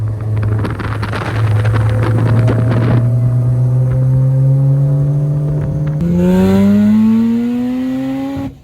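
Mazda RX-8 with a 13B rotary engine revving hard, a loud, close, rising wail climbing steadily in pitch, briefly dropping and surging again, with a buzzy rasp and no talk.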